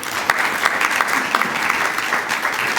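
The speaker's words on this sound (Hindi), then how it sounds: "इस बच्ची के लिए तालियां बजाएं।" Loud, continuous applause from a crowd fills the whole stretch, a dense patter of clapping hands without pause.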